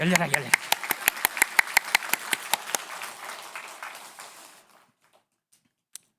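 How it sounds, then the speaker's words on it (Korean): A church congregation at a Sunday morning service claps in a quick, steady rhythm after a brief voice. The claps fade out after a few seconds and leave near silence with a couple of faint taps. "우리 하나님께 한번 박수로 한번 감사와 영광도"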